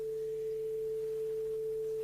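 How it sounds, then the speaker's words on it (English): A steady 440 Hz sine wave sounds alone as a single pure, unwavering tone for about two seconds. It is clean and evenly loud throughout. "the single tone is a single sine wave, right? So that's what you can hear now."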